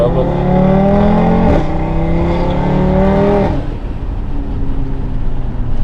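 An Audi RS3 with a Stage 2 tune revs hard and climbs in pitch through gears, loud and close, with a shift partway through and rumbling road noise.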